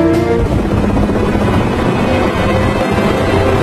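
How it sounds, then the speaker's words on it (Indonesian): A military evacuation helicopter in a war-zone film drones steadily and loudly throughout, its rotor and engine noise filling the scene alone without speech. "Saat helikopter sedang di perjalanan"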